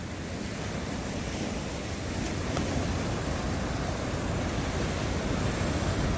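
Ocean waves crash and roll in a continuous heavy roar along the coast, with wind buffeting the microphone throughout.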